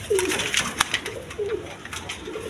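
A pair of red German seal pigeons coo softly, several short low murmuring calls repeating close by under light background clatter.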